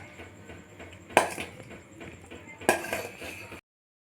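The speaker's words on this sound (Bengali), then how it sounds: "এটাকে ভালো করে মিশিয়ে নিচ্ছি।" Chopped onions and chillies being stirred with white oil and salt in a bowl, two sharp clinking scrapes of a utensil against the dish over a quiet room background.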